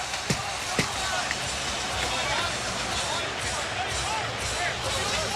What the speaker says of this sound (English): you could hear the crowd as they were groaning